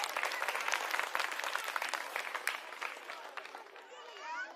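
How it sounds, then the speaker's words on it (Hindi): A crowd at a political rally in Delhi breaks into dense, sustained applause, loud and fairly close, fading toward the end as a voice begins to speak. "पहले तो एक बार ताली अपने लिए बजा लीजिए आप लोग।"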